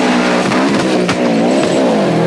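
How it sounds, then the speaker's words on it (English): Four-wheel-drive turbocharged rally cars at speed on a 1994 Rally Australia stage at Langley Park, a loud close engine roar rising and falling through gear changes and passing by. "these four-wheel drives, you hear them trying a wheel spin, but they're just traction all the way, despite the turbo giving them an enormous amount of kick and boost"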